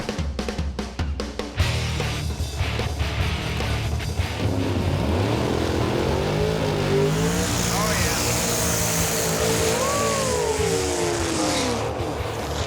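A blown Nova drag racing car roars past, its engine loud and rising before the pitch sweeps down as it passes close by, with voices talking over the end.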